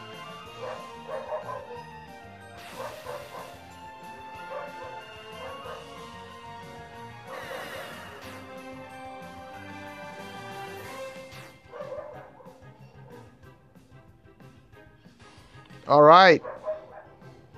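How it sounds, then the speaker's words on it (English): A neighbor's dog barks and yips in short bursts at a distance, heard under video game music, with someone speaking briefly and a louder sliding electronic sound near the end. "The neighbor's dog is barking."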